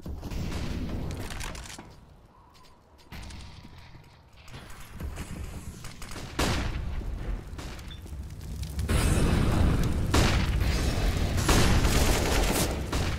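A grenade goes off during a Counter-Strike match, part of a long stretch of rumbling game noise with several booming hits and a heavy, sustained blast later on.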